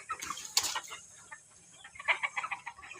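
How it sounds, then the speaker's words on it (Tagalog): Large native roosters and chickens cluck and squawk in an outdoor coop, producing a busy, overlapping run of short calls at close to moderate distance. "ang nasa tangkal gipamutang ni Janjan mga syamo ni siya nga manok"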